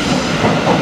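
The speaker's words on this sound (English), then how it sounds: "I'm just at the train station now, waiting for my train" A train rumbles through a station, a loud, close rolling clatter of rail cars that holds steady through the short moment with no voices.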